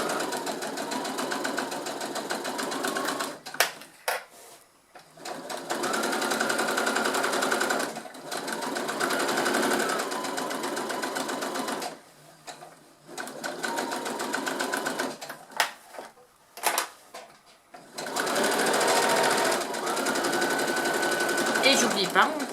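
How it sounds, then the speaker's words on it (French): A sewing machine stitches fabric for a tote bag in several sustained runs separated by short pauses, running loud and close with a rapid mechanical whir. "Je suis en place pour ma couture."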